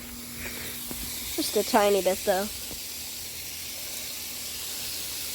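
A backyard sprinkler sprays water over a bush, a steady soft hiss running throughout under a brief stretch of speech.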